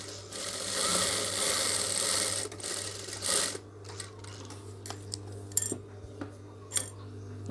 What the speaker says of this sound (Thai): เย็บสี่ด้านให้เหมือนกันเลย